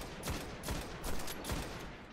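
Gunfire in the video game Destiny during a Hunter's solo Nightfall strike against Cerberus Vae III: several quick bursts of shots in a dense, noisy mix.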